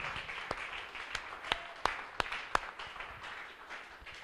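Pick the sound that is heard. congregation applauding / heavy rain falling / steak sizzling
congregation applauding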